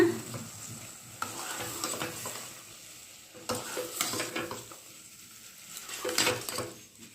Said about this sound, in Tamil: போட்டு நல்லா மிக்ஸ் பண்ணிக்கோங்க